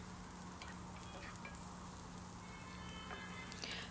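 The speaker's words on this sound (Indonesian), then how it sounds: "Oke, kita tumis hingga berbau harum ya dan layu bawangnya itu." Shallots and garlic stir-fry in a pan with a steady, soft sizzle, faint and continuous with occasional light scrapes of stirring, no voices.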